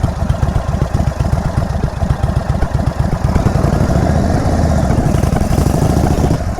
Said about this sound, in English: I'm coming off the throttle.